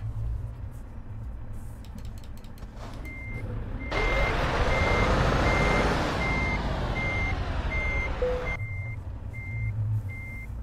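Simulated heavy truck in Euro Truck Simulator 2 sounding steady, evenly spaced reversing beeps while turning around, over a loud diesel engine rumble that swells in the middle and then settles.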